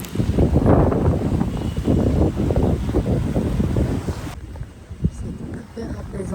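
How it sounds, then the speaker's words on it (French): Strong wind buffets the microphone in a loud, steady roar with low rumbling gusts, easing slightly toward the end. "je sais pas si vous m'entendez parce qu'il y a énormément de vent"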